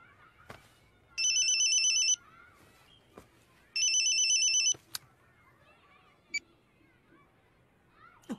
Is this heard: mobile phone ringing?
yes